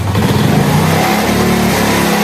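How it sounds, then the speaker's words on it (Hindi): A Honda CD 70 motorcycle engine is revved hard, a loud, close mid-pitched roar that rises and then drops back, with no talk over it. "अब मैं यहाँ से बाइक की रेस दे रहा हूँ"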